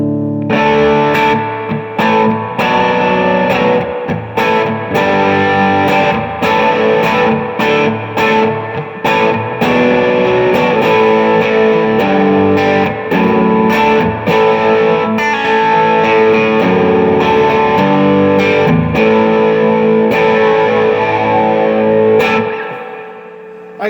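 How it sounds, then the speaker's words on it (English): An electric guitar plays through a Like My Pedals Dual Preamp Overdrive on its standard gain stage, using the bridge pickup, giving a loud, continuous crunchy tone of strummed chords that ring out and stop at the end. "And here's the overdrive with the standard gain stage."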